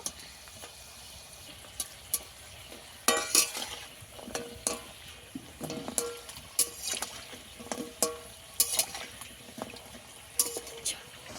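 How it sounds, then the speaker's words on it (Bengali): Oil sizzles steadily as mini samosas deep-fry, with intermittent clinks and scrapes of a utensil turning the pieces. "একইভাবে আবারও এক প্লেট ভেজে নেব।"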